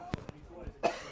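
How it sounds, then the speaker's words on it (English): Several short, sharp coughs on a crowded football broadcast, two close together at the start and a louder one near the end, with commentary voices in the background. "this cough"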